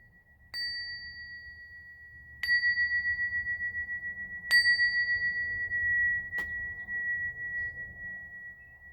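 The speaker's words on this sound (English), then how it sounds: "I'm going to ring your bell." A small bell is struck four times at roughly two-second intervals, each clear ding ringing on steadily over a low background hum.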